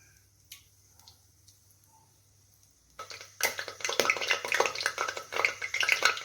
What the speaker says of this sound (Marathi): तेल तापलं की इथे आपल्याला टाकायचं आहे खडे मसाले